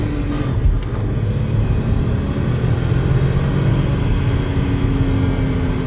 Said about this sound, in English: You can hear the engine on the higher revs